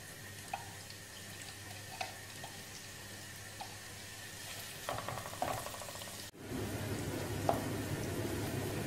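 Onions dropped into a pan over a gas flame: quiet drips and soft ticks, then a sudden jump into a steady, moderately loud sizzle that continues to the end.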